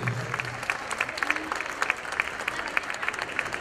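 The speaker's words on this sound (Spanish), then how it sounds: "Los recibimos con un fuerte aplauso entonces a la chica de primer grado" Applause for a first-grade girl at a school charity event, a steady patter of many hands clapping at moderate volume from a seated crowd, with scattered sharper claps and faint voices underneath.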